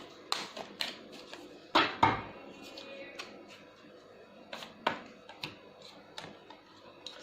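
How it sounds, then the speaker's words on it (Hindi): A deck of tarot cards is shuffled by hand, dry papery taps and flicks scattered across several seconds, with a couple of louder riffling bursts, close and fairly quiet. "Last shuffle."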